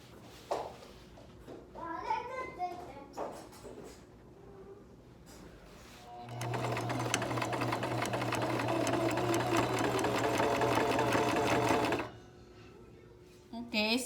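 A sewing machine runs along the edges of a fabric face mask in one steady, close, loud burst of rapid stitching lasting about six seconds, with talking before and after.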